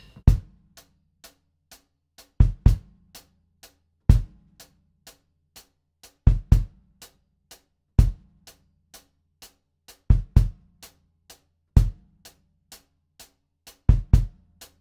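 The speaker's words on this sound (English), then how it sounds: "So we'll try right hand on the hi-hat and the bass drum now." A drum kit plays a sparse repeating groove, with bass drum hits landing in pairs and single hits between steady quiet hi-hat ticks, closely recorded and alone.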